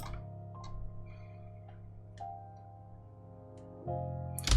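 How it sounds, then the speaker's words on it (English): Reversed high piano notes in a quiet breakdown of an emotional future bass track made in FL Studio, sustained tones swelling gently over a low held pad, with faint ticking accents and a louder swell at the end. "I reversed the piano also,"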